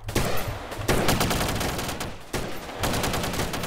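Rapid bursts of gunfire in a SAMP multiplayer shooter battle, loud and close, with dense volleys separated by brief pauses.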